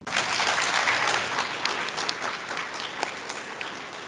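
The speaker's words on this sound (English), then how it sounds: "So let's give everybody a big round of applause." A crowd at a spring college fine arts gallery awards night gives a big round of applause, loud at first and slowly thinning as individual claps stand out toward the end.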